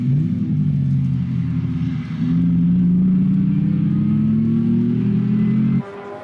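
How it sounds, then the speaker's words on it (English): A freshly fueled Chevron race car heads onto the track, its engine a loud, steady drone that climbs in pitch as it accelerates before cutting off sharply near the end. "The freshly fueled Chevron makes its way onto the track."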